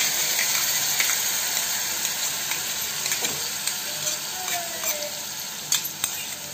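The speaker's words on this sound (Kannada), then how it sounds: "ಆಮೇಲೆ ಚೆನ್ನಾಗಿ ಮಿಕ್ಸ್ ಮಾಡಿ ಫ್ರೈ ಮಾಡಬೇಕು." Ground masala frying in a pan for masala puri, a steady bright sizzle with occasional stirring scrapes, close and continuous.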